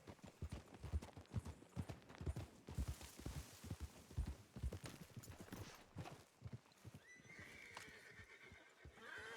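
Horse hooves clip-clop at a steady walking rhythm in Red Dead Redemption 2, fairly close and continuous, with a horse whinnying briefly near the end and faint ambient game sounds around.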